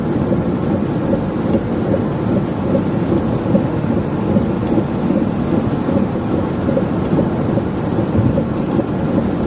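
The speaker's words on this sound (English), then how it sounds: "I can confirm it is raining outside" Thunderstorm with heavy rain outdoors during destructive storms in Arkansas, a steady broadband roar of rain and rumbling thunder that stays loud and continuous with no voices.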